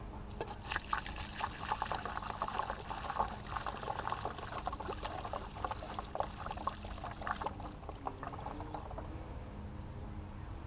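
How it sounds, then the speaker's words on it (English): Zep Heavy Duty Citrus degreaser is poured undiluted into a bottle, a steady close liquid pour with small splashes and gurgles running for about eight seconds before easing off. "Let's get some of this stuff poured into a bottle."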